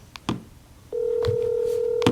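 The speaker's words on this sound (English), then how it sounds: "Phones are ringing." A telephone sounds: a few short tonal beeps are followed by a steady, clear electronic ring tone that holds for over a second, with faint clicks around it.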